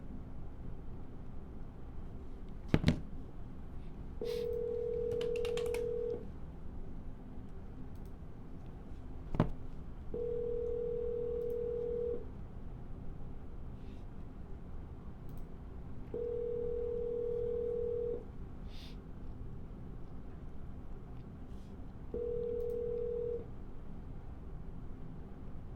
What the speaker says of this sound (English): you always want to double dial because we're trying to get people on the phone today